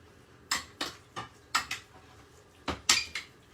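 Boneless chicken thighs being tossed with chimichurri in a bowl, giving a run of short, close clinks and scrapes in loose clusters, about seven distinct knocks over a few seconds with quiet gaps between.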